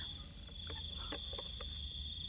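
Crickets chirp steadily near a frog-rearing pond, a high continuous trill with a few short clicks and taps underneath, fairly close and alone.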